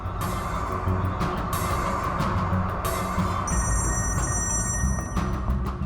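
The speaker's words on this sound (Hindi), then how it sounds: "ये फोन भी नहीं उठा रहे हैं" A telephone rings on and goes unanswered, its bright bursts repeating every second or so before a steadier ringing tone, over a constant low background rumble.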